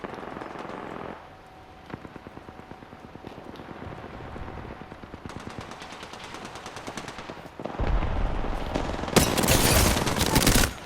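Rapid automatic gunfire from the video game Apex Legends, bursts of machine-gun fire running through the clip and growing denser and louder toward the end.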